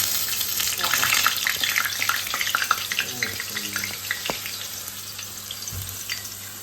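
Crackling sizzle of hot spiced-oil tempering poured over a stew, bursts of popping spattering over a steady hiss, fairly close, easing off toward the end.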